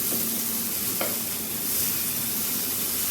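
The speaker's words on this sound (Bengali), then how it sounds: "এখন মশলার সাথে খুব ভালো করে ডিমটাকে কষিয়ে নিচ্ছি যাতে ডিমের কাঁচা গন্ধটা একেবারেই না থাকে" Large pieces of egg being stir-fried with spices in a pan, making a dense, steady, close sizzle and crackle that holds at an even loudness with no voices.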